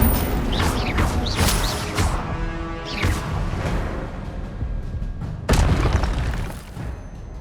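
The Incendio fire spell bursts repeatedly in Hogwarts Legacy, several whooshing booms with crackling flame tails, spaced a second or two apart, loud and close, with mechanical clanks between.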